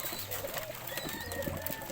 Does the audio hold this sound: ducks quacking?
no